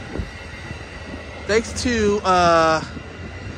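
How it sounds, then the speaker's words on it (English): Amtrak California Zephyr passenger train, Train #6 with two ALC-42 locomotives, passing at Richmond, heard as a rising rumble with a loud, tonal horn-like blast under brief talking. "this train is headed towards your hometown, Sacramento."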